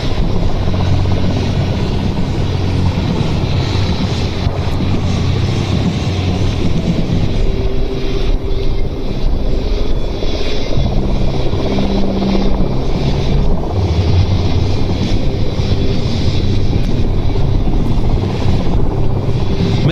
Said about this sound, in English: Making their way up to the Mi-171 NATO codename HIP